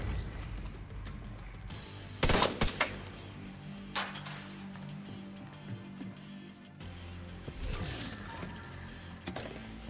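Enemy gunfire in the shooter game Tom Clancy's The Division 2, with sharp bursts of shots and impacts, mechanical clatter and game effects over a busy background.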